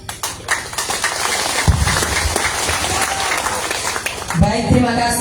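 An audience at a family campaign meeting in Desa Nangga, Kecamatan Karera, breaks into sustained applause, with dense clapping that fills the whole stretch while a voice carries over the top.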